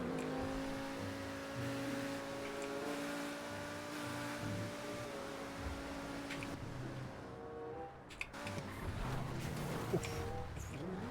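A Progen T20 (McLaren P1) engine in GTA 5 drones at steady revs, then surges and revs harder toward the end, fairly faint, with brief voice sounds mixed in.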